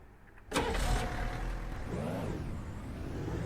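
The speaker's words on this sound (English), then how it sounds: "We're gonna pull that truck up again." Pickup truck in Ranch Simulator, the engine kicking in abruptly with a loud start, then settling into a steady close idle and drive hum with a brief revving swell.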